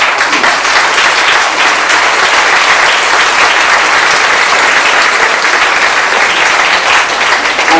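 An audience in a congress hall at a summer concert in Borno gives loud, sustained applause, a dense and even roar of many hands clapping without a break and with no talk over it.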